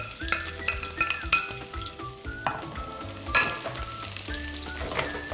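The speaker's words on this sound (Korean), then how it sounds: "이렇게 달궈진 팬에 파랑 마늘을 넣고" Green onion and garlic sizzle in oil in a hot pan, a steady close fry punctuated by stirring scrapes and light clinks of utensils against the pan.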